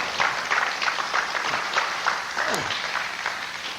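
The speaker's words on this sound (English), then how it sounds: "I assume you're applauding for scalar energy" An audience at a scalar energy presentation applauds, a steady smattering of many hands clapping that runs the whole time, with faint voices mixed in.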